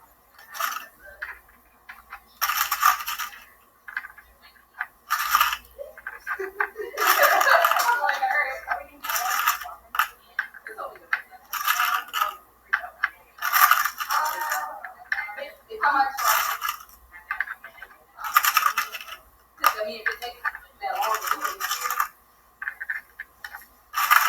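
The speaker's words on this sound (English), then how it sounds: "we are going to be taking pegs with both hands and putting them in the holes" Small pegs are placed into the holes of a Purdue Pegboard with both hands, making repeated light clicks and ticks in quick rhythmic bursts up close, with short pauses between them.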